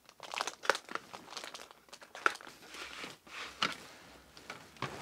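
A paper envelope from a LEGO Ghostbusters 10274 Ecto-1 set box is opened, giving close, repeated crinkling and tearing of paper in irregular bursts.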